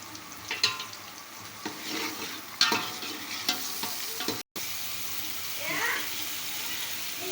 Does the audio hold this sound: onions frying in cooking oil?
yes